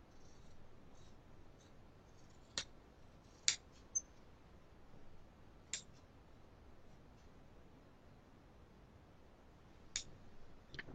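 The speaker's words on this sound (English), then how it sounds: "make a cut up and make a cut" Scissors snipping fabric on a size 36 dress form, a few sharp isolated clicks spaced several seconds apart over a quiet background, faint and close.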